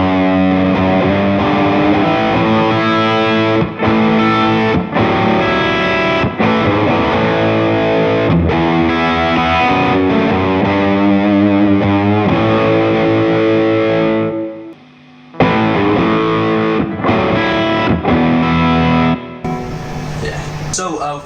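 Heavily distorted Gibson Les Paul 2020 through a PV Bandit 112 amp plays chords and riffs with short pauses between phrases, loud and close, with a brief silent gap near the end.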